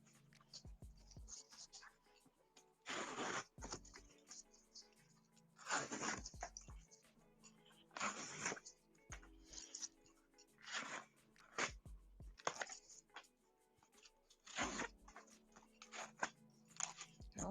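Paper being crushed and torn up for recycling in bursts of crinkling and ripping, close and fairly quiet, with pauses between handfuls.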